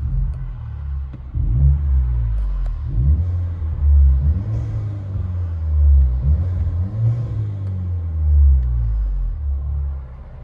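Deep exhaust drone from a 2016 Chevy Malibu LT Turbo with muffler-delete dual exhaust, heard from inside the cabin, swelling and falling through several gentle revs over a steady low rumble.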